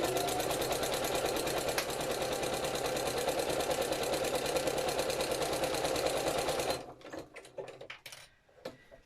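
A sewing machine runs a zigzag stitch, sewing fabric over thick canvas. It hums with a steady rapid clatter for about seven seconds, then stops and leaves a few faint handling clicks.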